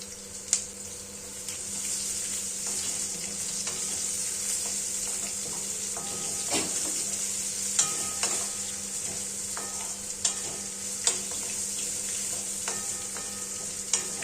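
Chopped ginger and onion fry in hot oil for a spicy chili potato dish while being stirred, producing a continuous close sizzle with intermittent scraping and clicking of a spatula against the pan.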